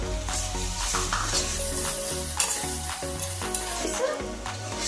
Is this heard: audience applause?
no